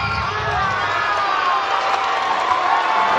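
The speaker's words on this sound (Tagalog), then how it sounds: "That's what you hear from the crowd here." A crowd at an MPBL basketball playoff game between Zamboanga and Bacoor City keeps up loud, sustained cheering and shouting, with a commentator's voice partly over it.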